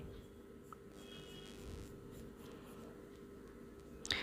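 Pencil moving across paper while drawing an angry Donald Duck cartoon, heard as faint, soft scratching strokes close by, ending in a brief, slightly louder rustle.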